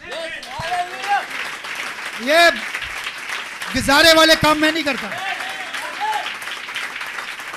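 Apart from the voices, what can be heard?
applause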